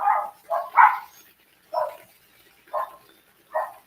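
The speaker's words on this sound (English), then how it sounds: "Is that a wee dog barking loud with you?" A small dog in Costa Rica barks loudly and sharply in bursts, three quick yaps followed by three more spaced out, each one brief, close and clear against a quiet background with no voices.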